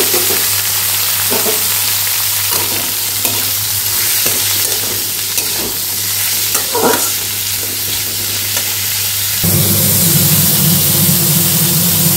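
Whole cumin seeds sizzle in hot oil in a pan, a loud, continuous crackling fry with faint stirring clicks, and the hiss brightens and intensifies near the end.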